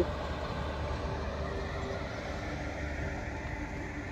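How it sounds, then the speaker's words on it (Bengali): A train hauled by an Indian Railways WAP-4 electric locomotive from Howrah rolls past nearby with a steady, even rumble and hum that holds at the same level, with no voices. "এই ট্রেনটা বাইশ চারশো বারো ইন্ডিয়ান রেলওয়েজের হাওড়া ডাব্লিউএপি ফোর এই ইঞ্জিন দিয়ে যাচ্ছে"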